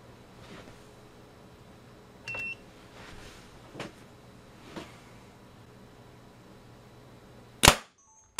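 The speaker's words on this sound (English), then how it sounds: "So once the transient fired, the knob shot off the front of this thing." Loud sharp electrical bang, a half-cycle line transient firing into a Mastech MS8211D pen-type multimeter with only a PTC and no high rupture capacity fuse, comes as a single burst near the end after quiet ticks and clicks.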